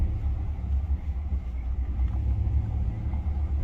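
A car drives by on a road, a low rumbling engine and tire drone that stays steady and moderately close, with no speech.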